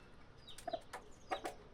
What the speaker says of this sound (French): il y a un coq que j'ai attrapé hier soir et qui est là